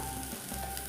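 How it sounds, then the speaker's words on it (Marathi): Drumstick pods fry in oily spiced masala, giving a continuous soft sizzle over one short, quiet stretch, with no talk. "आणि मसाल्यात चांगली भाजून घ्यायची आहे."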